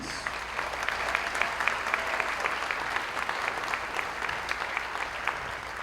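An audience at a seniors talent show in Chattanooga gives a sustained round of applause, steady dense clapping from a crowd with occasional sharper claps standing out, continuous for several seconds.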